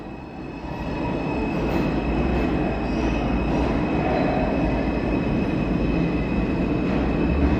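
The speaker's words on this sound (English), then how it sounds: "I'm just hanging out in the subway, friend." A New York City subway train rumbles steadily through a station in extreme cold weather, a loud, continuous roar of wheels on rails with faint squeals and no talking.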